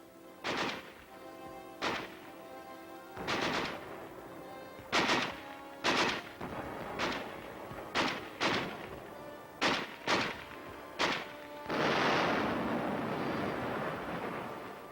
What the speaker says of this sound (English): there's plenty of ammunition here to keep this big gun firing